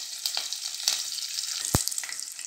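Fennel seeds, curry leaves and broken green chillies frying in hot oil for a pepper chicken gravy produce a bright crackling hiss with scattered spits and one sharp pop near the end, with no voices.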